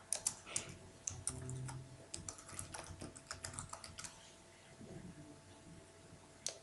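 Quick bursts of keystrokes on a computer keyboard, soft clicking taps in short irregular runs with brief pauses, close and quiet, with no other sounds over them.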